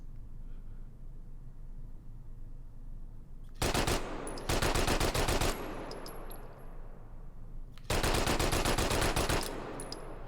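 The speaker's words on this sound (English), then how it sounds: "We can shoot out at 100 meters with a Sten gun with a barrel longer than anything" Sten submachine gun fired in the VR shooting game Hot Dogs, Horseshoes & Hand Grenades, two loud sustained bursts of rapid automatic fire, one bursting twice in quick succession, then a later long burst, over quiet background.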